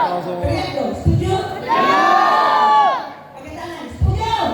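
A crowd of children at an Islamic religious gathering shouts together in loud agreement, a sustained burst of massed young voices answering a call, framed before and after by an adult's amplified speech.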